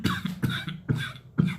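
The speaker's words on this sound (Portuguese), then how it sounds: "a gente fala muito tempo, fica com a garganta seca e dá tosse" A teacher coughing in a class recording, four quick dry coughs in a tight rhythm, close and fairly loud.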